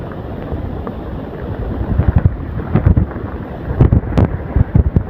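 Wind buffeting the microphone during a heavy flood storm, with rolling rumbles like thunder and gusty bursts that grow stronger and choppier toward the end, loud and close.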